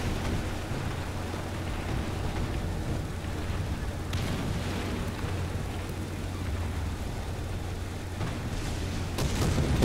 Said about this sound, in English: Trying to get out of the way of this artillery barrage that's coming.